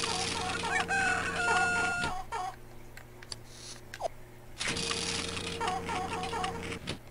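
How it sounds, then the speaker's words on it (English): Chickens in The Sims Bustin' Out video game cluck and crow in two loud, close bursts separated by a short quieter gap, with no talk. "There's a chicken on loose."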